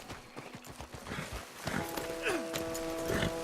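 Horse hooves clop in Red Dead Redemption II, a run of quick, close hoofbeats at a trotting rhythm, with tonal game sounds and a brief call layered over the later part.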